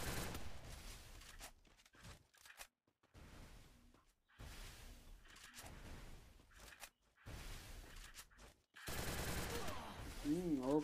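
Gunfire in the mobile shooter Free Fire comes in repeated rapid bursts of automatic shots separated by short silences, loud and close, with a voice briefly heard near the end.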